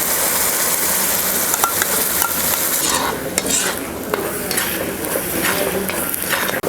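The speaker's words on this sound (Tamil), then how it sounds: "இப்போ இஞ்சி பூண்டு நல்லா வதங்கணும்." Ginger garlic paste sautés in a cast iron wok with a dense, continuous sizzle. A spatula scrapes and stirs in repeated strokes, and a sharp metallic knock lands near the end.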